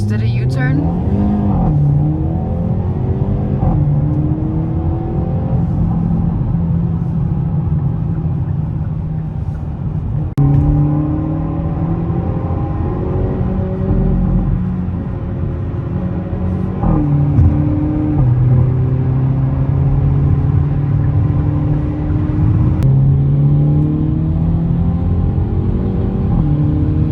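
Hyundai Elantra N engine droning steadily through a U-turn, its pitch gliding up and down with throttle changes, loud and continuous with a voice talking over it.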